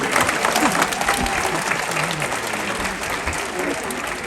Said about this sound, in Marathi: त्यापेक्षा जोरात आपल्या टाळ्या झाला पाहिजे मंडळी